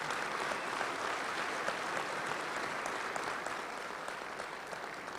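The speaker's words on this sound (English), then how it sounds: "Let's give him a round of applause for that." A banquet-hall audience at a touchdown club luncheon applauds steadily, a dense wash of clapping that holds for several seconds and eases slightly toward the end.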